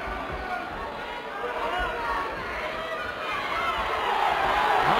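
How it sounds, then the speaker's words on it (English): A crowd at a wrestling bout reacts with a swelling roar and chatter that builds toward the end, and a commentator talks over the noise. "You can hear what the crowd think of it."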